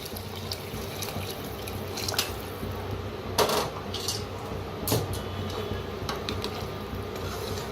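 Hot water poured into a pot of mixed masale bhat rice in a home kitchen, a steady liquid splashing with a few brief louder bursts, close and fairly quiet, with no talking.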